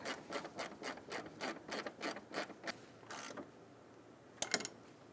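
A bolt is tightened on the AC condenser cooling fan assembly of a 2000-2007 Ford Taurus, making a run of quick, rhythmic rasping ratchet strokes, then a pause and a couple of sharp clicks near the end.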